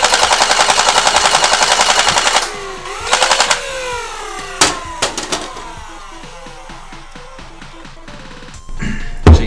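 A modified Nerf AutoStryfe blaster on a full-auto conversion fires a rapid, loud rattling stream of darts for a couple of seconds, then short bursts and scattered clicks and darts hitting things, close by.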